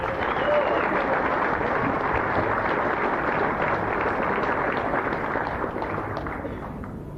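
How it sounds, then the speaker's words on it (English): An audience at a rockabilly show applauds in a broad, continuous wash that tapers slightly toward the end, with talk likely mixed underneath. "What about a big round of applause for Ward?"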